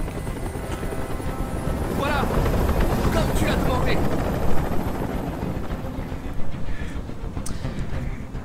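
Helicopter in the video game Detroit: Become Human, a loud, steady rotor thrum and engine rumble filling the scene, with a voice speaking briefly over it.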